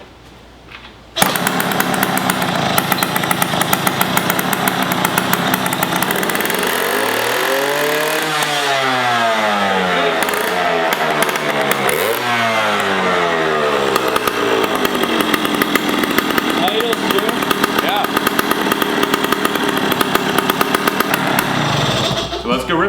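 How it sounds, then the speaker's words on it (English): Small two-stroke engine of a 1981 Yamaha MX80 motorcycle, fitted with a small air filter, revving up and down through its rev range, loud and close, with rising and falling sweeps and a buzzy, chainsaw-like whine. "And now we'll just go through the rev range and see if it's happy."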